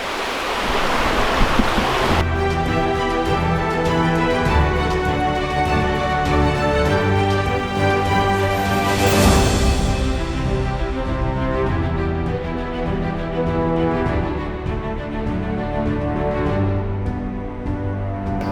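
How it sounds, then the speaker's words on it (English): Loud, continuous rush of a river flowing nearby, a dense steady roar of water that fills the whole stretch without pause. "the noise of the river has overpowered my talking down there"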